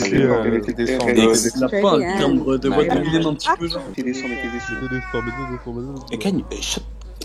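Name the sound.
cat meowing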